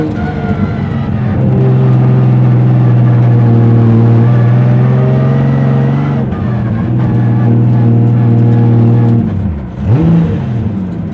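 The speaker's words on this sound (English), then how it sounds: "I'm gonna do some cool down laps." A race car runs cool-down laps on a track, its engine droning loud and steady at close range with harmonic tones, easing off briefly near the end before picking back up.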